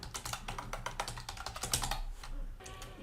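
Fast typing on a computer keyboard, a steady clatter of close key clicks running almost without a break, with a short lull near the end before the tapping resumes.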